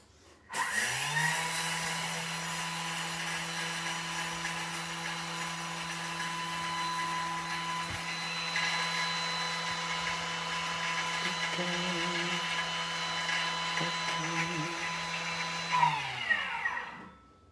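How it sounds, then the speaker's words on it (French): A Thermomix whirs at top speed 10 pulverising sugar into powdered sugar, a loud steady motor whine with a constant high hum for about fifteen seconds before spinning down and stopping. "Et là, on va mixer 15 secondes vitesse 10."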